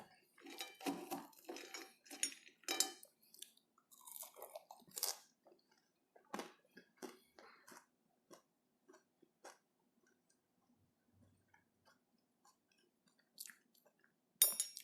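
Close, crisp chewing and crunching on pan-fried salmon steak, with bursts of bites and clinks of cutlery on a plate, growing sparser and quieter toward the end before one final clatter.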